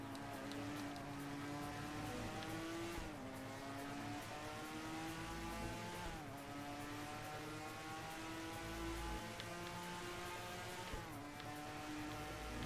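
F1 race cars in an old Formula 1 racing video game, high-pitched whining engines rising through the revs then dropping sharply at each gear shift, several cycles in a row, steady and prominent with no talking.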